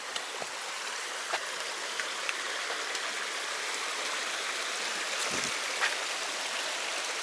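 A small creek on the Foothills Trail near Lake Jocassee flows in a steady, fairly close broadband rush with faint gurgles, alone and unbroken throughout.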